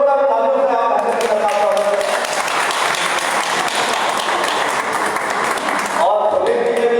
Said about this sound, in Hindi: एक बार जोरदार तालियों से आप ऐसे